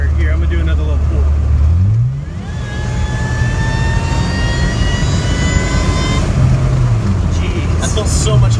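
A supercharged Honda J-series car accelerates under boost with a constant loud engine roar, close up from inside, as a thin whine climbs steadily in pitch through the middle of the pull.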